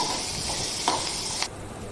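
Food sizzles and is stirred in a hot pan at a home stove while preparing a weight-loss lunch, with a steady soft hiss and a couple of brief scraping clicks from the spoon.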